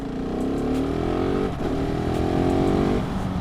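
A Husqvarna 701 Supermoto fitted with a quick shifter rides along a road, its single-cylinder engine revving up through rising gears with a quick shift break, loud and close.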